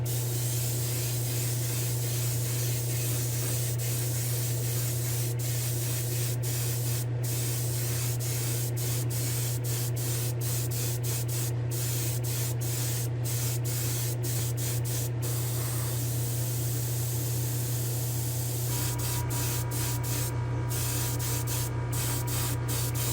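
Gloss white and clear coat being spray painted onto a Matchbox AMX toy car, a long steady aerosol hiss over a low electrical hum, with short bursts near the end.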